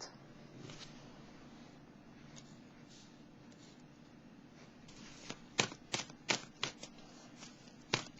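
Tarot cards being shuffled and handled in a quiet room, a soft continuous riffle followed by several sharp, close slaps as cards are squared and set down near the end.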